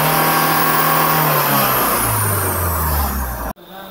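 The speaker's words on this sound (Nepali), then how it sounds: "स्टार्ट गरेपछि म फुल एक्सिलेरेटर दबाउँछु फुल दबायो" A Mahindra Scorpio with the mHawk diesel engine, which has an RPM fluctuation and low pickup fault, is revved hard at full throttle. The roar is loud and close and climbs steadily in pitch before cutting off abruptly near the end.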